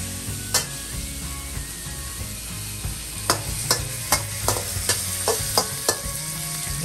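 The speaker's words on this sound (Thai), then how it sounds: "เราเอาเบคอนลงมาผัดให้น้ำมันมันออกนะครับ" Betagro bacon stir-fried in a pan, rendering its fat: a constant close sizzle punctuated by a series of sharp scraping and tapping spatula strokes against the pan.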